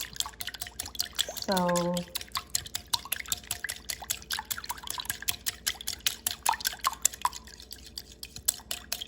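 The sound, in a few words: whisking egg and milk in a bowl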